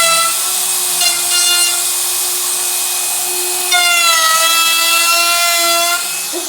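Router cutting a 45-degree chamfer along the edge of lumber, a loud, steady high-pitched whine that holds throughout and shifts pitch slightly partway as the bit bites into the wood, with no voices.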